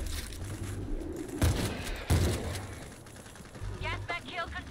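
Gunfire in the zombie shooter World War Z on the Marseille map, a few heavy shots and bursts with mechanical clatter, under frequent shouted voices from characters in the game.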